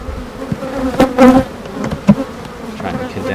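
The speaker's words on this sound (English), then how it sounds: "There's a decent amount of bees in this frame here." Honeybees buzz on a frame pulled from a hive, a close, loud, rough drone that swells in short bursts and is joined by a few light knocks, with no voices.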